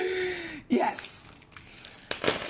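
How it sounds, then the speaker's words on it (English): Car keys jangle near the microphone in a short metallic rattle, with soft clinks following, during a live stream where a person talks. "My car keys."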